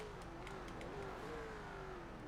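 A 1968 Pontiac Firebird engine in Forza Horizon 4 revs steadily at high speed, its pitch dropping briefly through gear shifts while a constant loud drone carries throughout.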